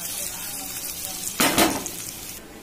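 Cardamom and raisins sizzle in hot fat while a kheer tempering cooks, a steady close frying hiss that swells into a short louder crackle as the pan is stirred.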